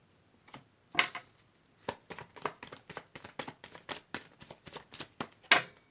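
Tarot cards are shuffled in a quick series of crisp riffling bursts, close and fairly quiet, with a couple of louder snaps.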